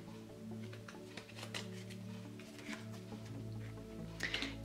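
Tarot cards are handled and shuffled while one is drawn, soft papery flicks and slides close by, quiet over a low sustained musical drone, ending in a louder brush.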